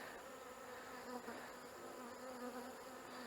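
Honeybees buzz at a hive entrance during a winter-prep inspection, a continuous soft droning hum of many insects coming and going, fairly faint and steady without voices.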